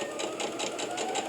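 A sewing machine stitches fabric for bucket storage in a loud, close, continuous run with a rapid, even pulsing rhythm.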